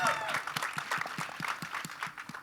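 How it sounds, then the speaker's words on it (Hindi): An audience at a film teaser launch event for Border 2 claps in a steady, moderately quiet round of applause, with distinct individual claps repeating throughout. "सनी भाजी के लिए एक बार जोरदार ताली होनी चाहिए।"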